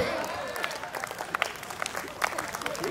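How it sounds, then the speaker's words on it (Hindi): Audience applause and clapping at a Hindi stand-up comedy show, steady and fairly dense throughout, with crowd noise and a voice mixed in underneath. "ताली तो अब इस बात पे बजा देना"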